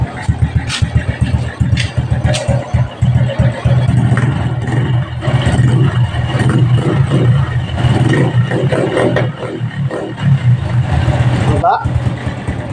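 A Honda CX 110 motorcycle with a rough, misfiring idle and a fuel-starved engine putters loudly up close in uneven pulses, with occasional revs and someone talking over it.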